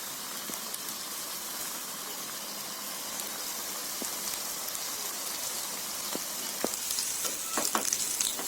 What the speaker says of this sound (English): To this oil add pudina and onion mixtures and fry it.